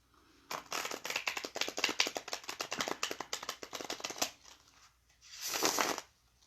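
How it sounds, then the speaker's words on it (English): A deck of tarot cards is cut and riffled, producing a long run of fast, crisp flutters at close range, a brief pause, then a second short burst of shuffling, with no voices. "Cut the cards so that we get a better reading."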